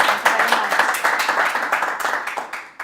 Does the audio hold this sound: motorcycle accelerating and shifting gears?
no